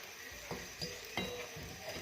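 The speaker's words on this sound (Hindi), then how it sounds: "अब इसे घी डाल के सेक लेते हैं पलट के" A paratha frying in ghee on a pan after being flipped, a soft steady sizzle with a few light scraping stirs, quiet and close.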